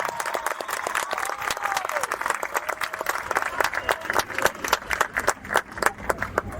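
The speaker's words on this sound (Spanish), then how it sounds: "Un aplauso muy grande para Gioconda." Audience at a Hay Festival Medellín conversation applauds, many hands clapping in a steady, fairly loud patter that builds slightly, with a faint voice briefly audible underneath early on.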